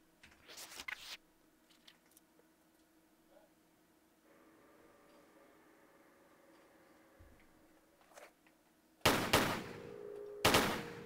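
Lara's gun firing in Tomb Raider III at a dog in the Scottish Highlands: a short burst of close, sharp shots early, then a quiet stretch, then two louder rapid bursts near the end.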